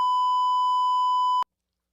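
A loud, pure censor beep plays as a single steady tone for about a second and a half, then cuts off abruptly into silence.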